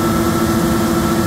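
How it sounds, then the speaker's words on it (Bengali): Inside the engine room of a passenger launch boat travelling from Barisal to Ilisha, the engine runs with a loud, constant, close-up roaring drone with no pauses. "এখানে প্রচণ্ড আওয়াজ আছে। এই হচ্ছে ইঞ্জিন রুম।"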